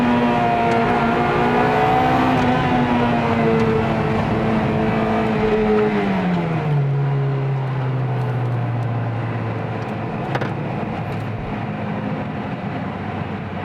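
A 1997 Honda Integra Type R DC2 engine wails at full throttle, its tone climbing high through the revs, then dropping sharply at a gear change before pulling hard again, loud and close with no talking.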